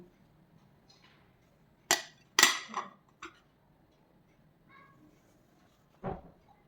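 Homemade paneer is moved onto a plate, producing a few sharp clinks and scrapes of utensils against the dish, spaced apart with quiet gaps between them in an otherwise still kitchen.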